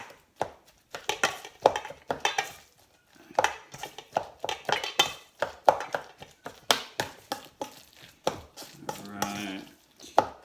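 Garden chives chopped on a cutting board, with a long run of sharp, close knife taps in irregular bursts and brief pauses.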